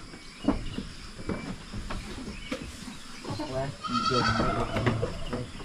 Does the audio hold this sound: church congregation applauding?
no